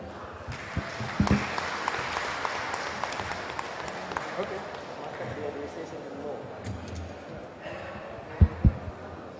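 An audience at a public lecture claps in a moderate, sustained round, with some talk and scattered knocks and thumps mixed in.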